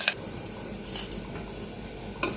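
Onion fries in a pan with a low sizzle while a spoon stirs it, scraping and clinking against the metal in a few sharp knocks spread across a steady background hiss.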